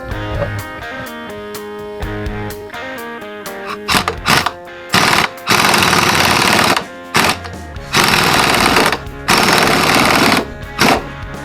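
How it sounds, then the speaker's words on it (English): An impact wrench drives new wheel studs with washers during a wheel bearing and stud replacement, firing a series of loud, close, rattling bursts separated by short pauses, with no talking. "Once we get them tapped in, we'll go around with the impact."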